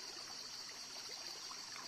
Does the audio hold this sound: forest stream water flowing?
yes